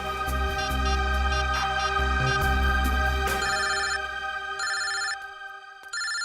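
Telephone ringtone repeating in bright electronic chimes, loud at first, then fading and ending in brief separated bursts as a call to a daughter goes unanswered; no one speaks.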